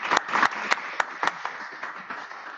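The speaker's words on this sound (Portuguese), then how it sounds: "Então, vamos bater palmas para o professor." A small auditorium crowd claps for a professor after his presentation, a light patter of hands with a few sharper individual claps, fading over a couple of seconds.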